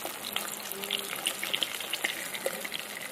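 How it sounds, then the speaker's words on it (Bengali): Pieces of catla fish frying in oil in a pan, a steady dense sizzle with scattered crackles and pops throughout, close and continuous with no talk. "আর এই পাশটাও কিন্তু একদম ভালো করে ভাজা হবে।"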